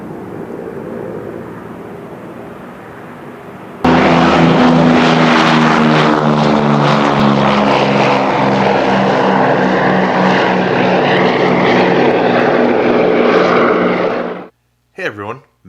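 An air compressor in a scale-model workshop kicks on abruptly and runs as a loud, steady drone for about ten seconds, then cuts off, leaving brief quiet.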